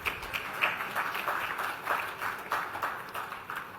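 Steady applause from a crowd at an SME awards ceremony in Delhi, continuous clapping at moderate volume with no voices on top.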